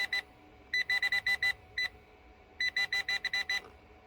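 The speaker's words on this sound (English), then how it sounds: "So there's something in there making it sound off." A metal detector sweeping over rocks sounds off with clusters of rapid electronic beeps in short bursts, separated by brief gaps, over faint outdoor background noise.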